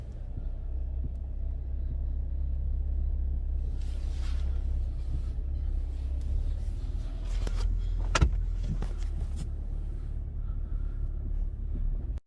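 A 2011-2015 Ford Fiesta on a test drive after a front brake replacement, with a steady low engine and road rumble throughout, a few faint clicks and rattles inside the cabin, and no talking.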